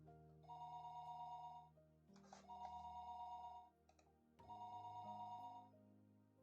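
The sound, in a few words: phone ringing in the Higurashi video game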